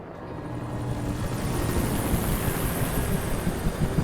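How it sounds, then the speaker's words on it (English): Helicopter flying overhead outdoors, a steady rotor thump and broad engine rumble that swells gradually and stays fairly loud, with some wind noise and no voices. "I hear an helicopter."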